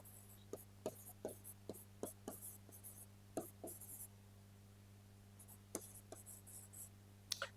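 Pen writing on paper while a reasoning question is worked out, producing short scratchy strokes in irregular bursts, close and quiet over a low steady hum.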